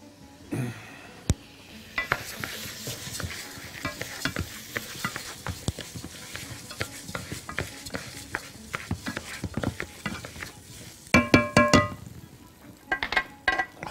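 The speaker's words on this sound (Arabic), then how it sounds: "نقلب." Rice fries in a pan and is stirred with scraping and clinking over a soft sizzle. The strokes are irregular and close, with a busier flurry near the end and no talking.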